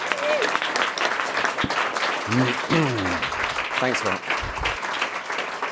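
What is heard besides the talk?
applause for someone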